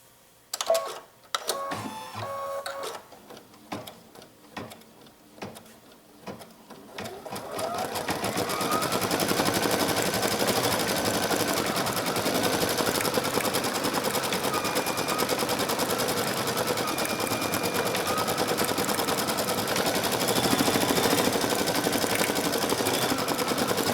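An embroidery machine stitches thread into denim, starting after a few seconds of sparse clicks and handling noise, then running as a steady, fast, loud mechanical chatter that continues to the end.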